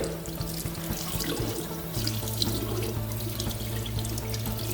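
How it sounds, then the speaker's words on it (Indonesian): Tap water runs steadily into a sink, a continuous splashing rush with small clinks as a dental impression is rinsed beneath it. "bersihkan di bawah air mengalir"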